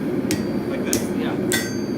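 A hammer strikes hot metal while a knife is forged, three sharp ringing blows spaced about half a second apart over a steady background hum.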